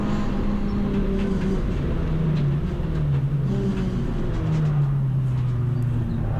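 A Renault race car at full racing speed on the Snetterton track, its engine a loud, continuous droning roar from inside the car, with pitch sliding up and down through gear changes and no talking.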